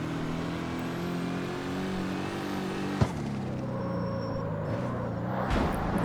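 Front-wheel-drive car engine in the CarX Street racing game held at full throttle, a steady loud drone with layered harmonics, a brief click midway, and a slight pitch shift near the end, with no talking.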